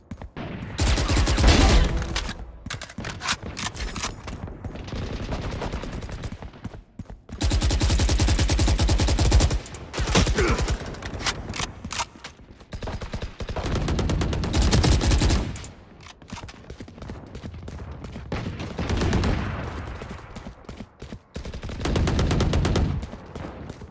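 Gunfire in a Valorant deathmatch game, with loud bursts of rapid automatic fire and single shots repeating in clusters and separated by brief pauses.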